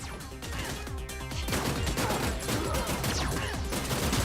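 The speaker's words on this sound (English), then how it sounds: "this cannon is unfair because we can't shoot in every direction, but the cannon can" A cannon fires in the pixel-art action game Terminator 2D: No Fate, a steady run of repeated booming shots under a busy, loud game soundtrack, with no one speaking.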